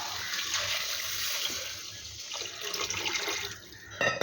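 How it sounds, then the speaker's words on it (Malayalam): Water poured into a ground spice paste in a pan for a stingray fish curry, a steady, loud rushing gush lasting throughout with no talk. "ഒരു 3 ഗ്ലാസ് വെള്ളം ഒഴിച്ചു കൊടുത്തിട്ടുണ്ട്."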